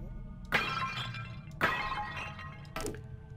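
Clay jugs shattering in the dark fantasy game Lunacid: three separate crashes of breaking pottery, each with a bright burst and a short ringing tail of debris, heard over a low ambient drone with no talking.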